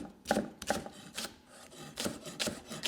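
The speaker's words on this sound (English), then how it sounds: "with the spring onions, I'm just going to trim the head and the ends off, and then I'll slice it at an angle" A knife slices spring onions at an angle on a board, producing a series of close, crisp chopping cuts at a fairly steady rhythm with no talk.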